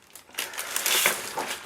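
Cardstock being cut down to size for a mini album, heard as a short, close run of crisp crinkling and crunching swishes.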